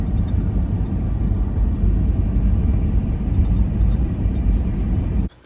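A 2001 Honda CR-V rounds a roundabout with its heater fan on high, giving a steady, loud low-pitched road and engine rumble mixed with fan hiss that holds evenly throughout and cuts off abruptly at the very end.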